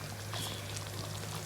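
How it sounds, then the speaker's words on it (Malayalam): Water is poured into a reddish lovi-lovi pickle mixture seasoned with asafoetida powder, making a steady, close splashing trickle that runs unbroken for about a second and a half over a faint low hum, with no talking. "പിന്നെയും കുറച്ചുകൂടെ വെള്ളം ഒഴിച്ചു കൊടുക്കുന്നുണ്ട് കേട്ടോ"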